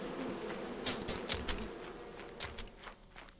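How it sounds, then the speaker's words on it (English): A swarm of bees in Lethal Company gives off a dense, constant buzzing hum, loud and close, with scattered footstep-like thumps and scuffs over the top. "I almost got killed by the bees."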